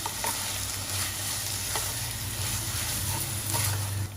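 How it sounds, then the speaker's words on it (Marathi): Koli-style prawn masala ingredients sauté over low heat in salted oil, producing an even, continuous sizzle with faint intermittent utensil taps against the pan. "हे चांगलं आपल्याला 2 मिनिटांसाठी परतवून घ्यायचं आहे."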